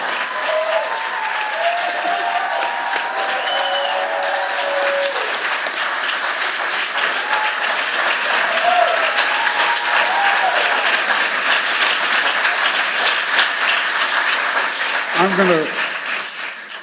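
Audience applause at a presidential event for a labor secretary nomination, a long steady roar of clapping that holds for well over fifteen seconds, with voices heard intermittently above it.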